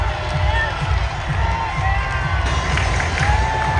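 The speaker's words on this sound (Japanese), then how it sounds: "これでスタジアムは大盛り上がり、みんな立ち上がって拍手と歓声の嵐です。" Dodgers fans on their feet in the stadium, applauding and cheering after a go-ahead run, a loud, continuous crowd roar with scattered shouts and a voice speaking close over it.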